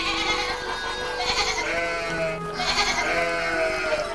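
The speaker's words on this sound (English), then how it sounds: "These goats are completely different from the big wild goats that lived in the mountainous regions of Anatolia" Several domesticated goats bleat in repeated, overlapping wavering calls, close and fairly loud, with no talking.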